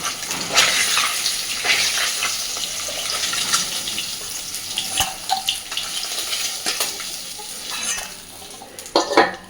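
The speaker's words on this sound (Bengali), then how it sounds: "এই একইভাবে বাকি সমস্ত মাছগুলোকেই আমি হালকা করে ভেজে নেব।" Pieces of rohu fish shallow-fry in oil in a wok, a steady close sizzle with bursts of spattering and occasional scraping clinks, no voices.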